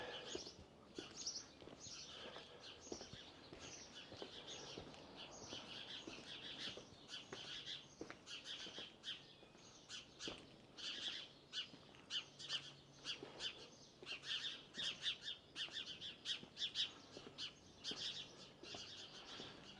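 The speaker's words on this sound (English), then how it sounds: "Hopefully you're hearing that, the sound of the birds." Birds on a beach at Peel, Isle of Man, give repeated faint chirps and short calls over a soft wash of wind and surf, scattered and fairly distant.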